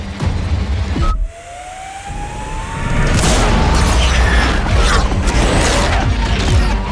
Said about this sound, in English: hear different high-performance sounds blasting out from both inside and outside